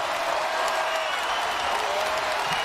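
A college basketball crowd at an Akron vs. Kent State game roars and applauds after a freshman's hammer dunk, a dense, loud, sustained cheer filling the arena with no break.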